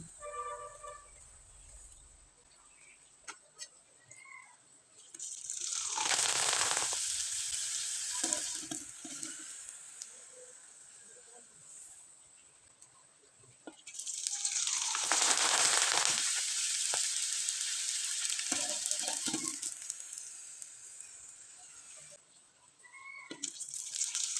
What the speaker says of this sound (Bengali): এই পিঠাগুলো ভাজতে কিন্তু বেশি সময় লাগবে না তেলে দেবেন আর তুলে নেবেন